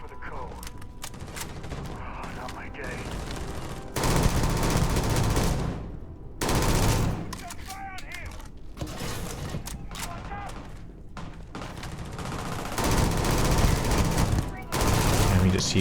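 Rapid automatic gunfire from a gun in Starfield, loud bursts that start and stop over a noisy game soundscape, with someone talking between and over the shots.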